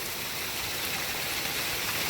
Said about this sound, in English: Look how fast that water's moving.